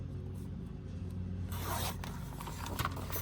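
A large book page image is trimmed with a few short, close scraping cuts, quiet at first, then brighter rasping strokes in the second half, with no talking.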